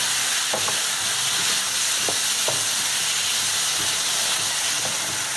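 Potato and garbanzo curry stirred in a pot, a continuous hissing sizzle with occasional soft scrapes and knocks of the spoon, close and steady.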